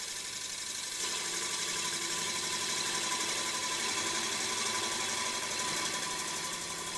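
A wood lathe spins steadily while a HollowPro hollowing tool takes a cut inside the piece. It makes a continuous, fairly loud whirring and scraping drone with no pauses.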